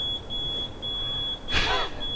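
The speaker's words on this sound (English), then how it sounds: "Smoke alarm, that's not a good sign." A smoke alarm sounds in a room, giving a steady piercing electronic tone that runs through the whole moment, with a brief burst of broadband noise partway through.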